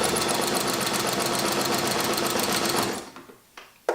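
Sewing machine stitching the mitred corner of a quilt binding a quarter inch in from the back, running in a fast, steady, rattling burst close up, then stopping abruptly with a few light clicks after.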